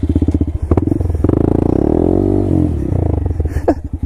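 A Honda MSX 125 (Grom) motorcycle engine revs hard and close while skidding on a wet surface, its pitch climbing and sliding in a sustained loud roar with sputtering at the start and end.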